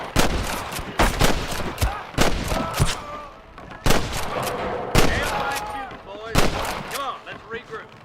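Repeated gunshots ring out in Red Dead Redemption, sharp loud cracks spaced about a second apart with echoing tails over a busy battlefield din, with some voice activity between the shots.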